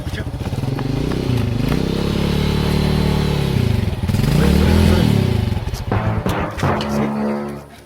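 A motorcycle engine roars close by, its pitch rising and falling as it revs, then drops away with some rattling toward the end.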